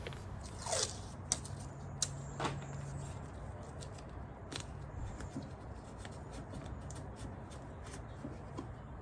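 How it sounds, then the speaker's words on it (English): Tape being torn and pressed over holes on a Nixon Off Road tail light for a Chevy S-10 Xtreme, quiet rustling and sharp crackling snaps close by, a few crisp tearing bursts among softer handling noise. "I'm just going to tape up the holes a little bit to prevent condensation."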